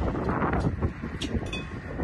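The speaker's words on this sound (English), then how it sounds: "That's a little windy out here, sorry about that." Steady wind buffets the microphone outdoors at a car dealership beside a new 2024 Chevrolet Blazer EV RS, a continuous low rumbling roar with no pauses.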